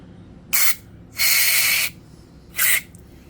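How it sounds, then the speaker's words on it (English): Aerosol carb cleaner sprayed onto an EGR valve from a Silverado, three sharp hissing bursts, short, then a longer sustained spray, then another short one, close over a quiet background. "So I got the carb cleaner and I'm just going to spray it on here."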